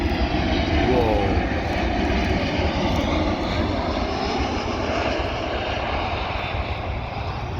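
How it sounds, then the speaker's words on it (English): A LOT Polish Airlines Boeing 787 Dreamliner passes near Warsaw Chopin Airport, a loud continuous engine roar with broad rumble holding steady throughout, heard from a hillside. "Oh, LOT, Polish Airlines. Probably a Dreamliner."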